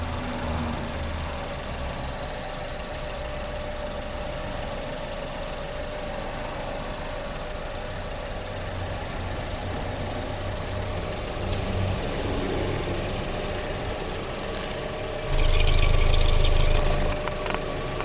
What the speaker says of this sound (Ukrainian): Ось робота двигуна. Цепний двигун, тому ГРМ міняти не потрібно рівно тихо працює.